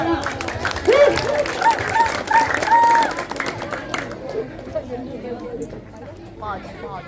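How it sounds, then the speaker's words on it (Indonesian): An audience claps at a neighbourhood quiz competition between youth groups, the applause mixed with crowd chatter, a whistle-like tone and voices, loudest early and thinning toward the end as talk takes over. "Tepuk tangan dong"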